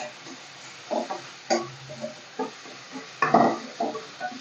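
Cauliflower fries in a pan for a Tamil-style masala, with faint sizzling under a series of scraping stirs and soft clinks of the utensil against the pan.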